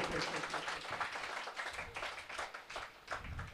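Congregation clapping hands during a Telugu Sunday church service, steady rhythmic claps from many people in a room, moderately loud and continuous.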